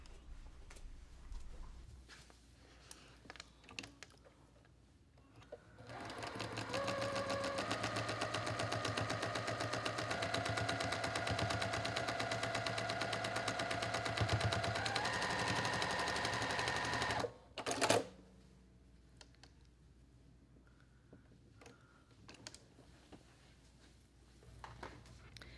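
A sewing machine stitches a quilt block seam, a rapid, steady mechanical chatter running for about twelve seconds between quieter handling noises and a brief thump, with no talking.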